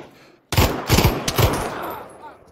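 A heavy gun in the Pavlov VR team deathmatch shooter fires loud close bursts that start abruptly after a short quiet moment, several heavy repeated shots in quick succession, with a voice mixed in.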